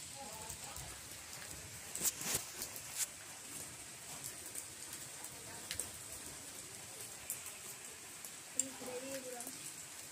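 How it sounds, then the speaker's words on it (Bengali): Rain falls outside in a soft, steady patter with scattered louder drops and taps. The whole scene stays low and diffuse, with faint background activity. "আমার ভাই দেখাতে চাইছি বৃষ্টি কেমন হচ্ছে।"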